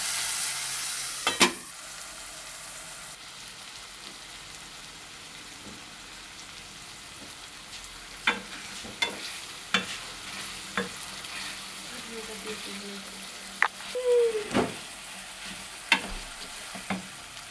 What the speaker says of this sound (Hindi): इसको दाब देते हैं थोड़ी देर के लिए, ताकि प्याज नरम हो जाए।